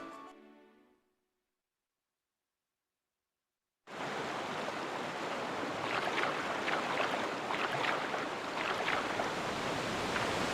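Rushing waterfall in The Legend of Zelda: Twilight Princess video game, a loud, steady roar of water that bursts in after a moment of silence and continues unbroken.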